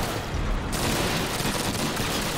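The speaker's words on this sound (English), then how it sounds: "I hear gunfire still." Rapid gunfire rattles in the World War II shooter Call of Duty: United Offensive, a dense fusillade of overlapping shots and machine-gun bursts that stays loud and continuous throughout.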